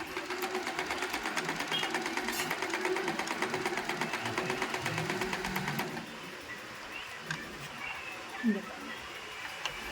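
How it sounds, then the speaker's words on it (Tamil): Usha Janome sewing machine stitching in rapid, even mechanical chatter for about six seconds, then stopping, followed by quieter handling noises and faint background sounds. "இப்போ நான் 2ல் அமுத்தி காமிக்கிறேன் பாருங்கள், இந்த தையல் எப்படி விழுகுதுன்னு."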